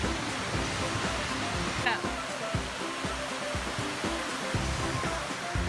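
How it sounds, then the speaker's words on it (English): Waterfall along a hiking trail near Mahwah, a steady broadband roar of falling water that fills the whole clip at an even level, with some faint talk in the background. "Wow, look at that waterfall."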